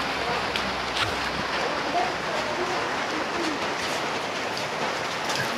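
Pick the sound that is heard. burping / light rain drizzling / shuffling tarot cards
light rain drizzling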